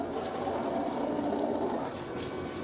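Water runs and splashes steadily as clothes are washed at home, a continuous close gushing wash of sound with no clear talking.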